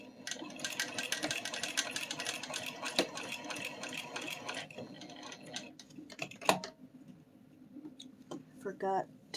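A sewing machine fitted with a walking foot stitches in steady, rapid ticking bursts, stopping and starting, with a quieter stretch near the end and some faint background speech.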